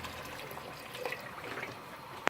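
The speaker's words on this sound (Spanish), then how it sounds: "Le echamos un poco de agua" Water poured onto sautéed meat and onion in a pot for charquicán, a steady soft trickle and splash close by, ending with a brief sharp clink.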